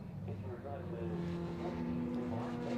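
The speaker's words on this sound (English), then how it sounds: "So the BMW, the yellow BMW, right at the back of the shot, just coming through now, is the race leader" Yellow BMW race leader in a Trackday Trophy race at Donington Park National, its engine a steady drone among other circuit cars, with a commentator talking over it throughout.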